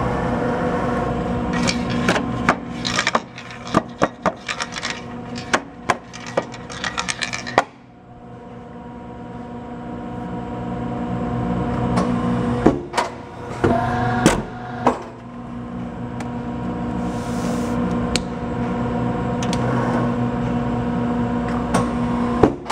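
A DAEHO iCutter i780 paper cutter machine runs through a cycle: steady motor hum with repeated sharp clacks and clunks, a brief lull, then the mechanism drives again with more clicks and knocks, heard close.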